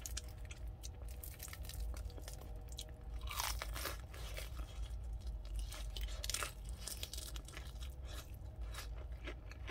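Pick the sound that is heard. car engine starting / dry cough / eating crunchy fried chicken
eating crunchy fried chicken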